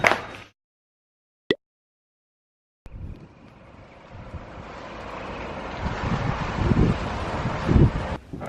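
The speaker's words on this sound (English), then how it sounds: "It's looking like one windy day outside." Wind blows outdoors as a rushing, blustery roar against the microphone, rising in strength after a near-silent opening with a brief click.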